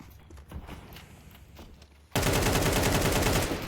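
Counter-Strike gunfire in a competitive match: after quiet footsteps, a sudden sustained spray of rapid automatic shots bursts in loud and dense for over a second.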